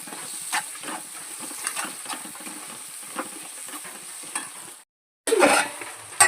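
A couple of sprigs of curry leaves fry in a pan with a taro curry, giving a soft continuous sizzle with light stirring taps, then a brief silence followed by a louder burst of spattering.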